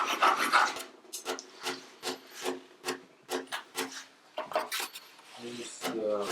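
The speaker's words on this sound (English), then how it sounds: "Now I'm going to sand them down." Hand-carved wooden parts for a Martin 000-18 guitar are sanded close up in short, repeated rasping strokes with brief pauses between them, in an irregular rhythm.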